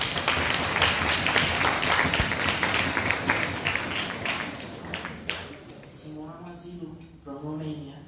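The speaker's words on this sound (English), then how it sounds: "Let's give her a round of applause." Audience applause for a panel chair at the ARGO Open 2016 grand final, a dense patter of many hands for about five seconds, fading as a voice begins speaking over the tail.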